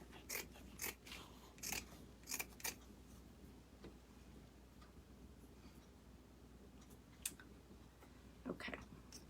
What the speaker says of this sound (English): So let me trim this.